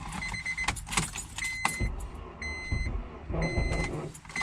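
A car sits in -40 degree cold during an attempt to boost-start it, with clicking, clunking and mechanical whirring close by; a brief high whine cuts in and out, with no engine catching.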